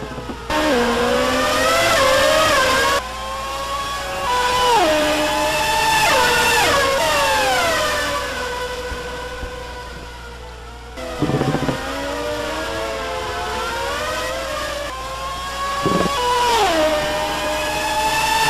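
Mazda race cars in a racing video game contest the Spielberg circuit, their engines wailing loudly and continuously with repeated rises and drops in pitch as they accelerate, shift and brake.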